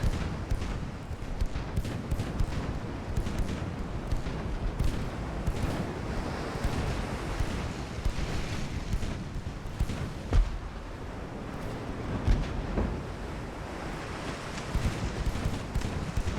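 2.5-inch guns aboard heavy cruisers firing repeatedly in a naval battle in the game Ultimate Admiral: Dreadnoughts, a dense continuous rumble of booms and distant bangs with a few sharper reports standing out near the end.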